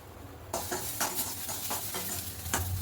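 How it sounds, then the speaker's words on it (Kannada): Grated coconut roasting in a hot pan, a soft steady sizzle with periodic scraping strokes of a spoon stirring, close and fairly quiet with no talking. "ಮತ್ತು ಕಾಯಿ ತುರಿ. ಇದು ಚೆನ್ನಾಗಿ ರೋಸ್ಟ್ ಆಗಬೇಕು."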